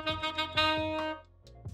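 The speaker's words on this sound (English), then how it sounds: "I have to play an A on my alto sax in order to play the same note that was played as a C on the piano." An alto saxophone plays a written A that sounds as concert C, first a few short tongued notes and then a held tone that drops away, playing alone and close.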